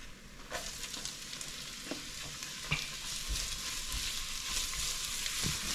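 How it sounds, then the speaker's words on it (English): Onions sizzling and frying in a pan as sea bass is cooked, a steady broadband hiss with occasional sharp pops and stirring clatters, close and continuous throughout. "next we're going to put in our onions"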